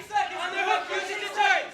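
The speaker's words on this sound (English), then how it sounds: "the crowd is behind her. They're chanting Lupe" A crowd chants in unison in a big arena during a women's MMA fight, the rhythmic voices rising and falling in waves, loud and close.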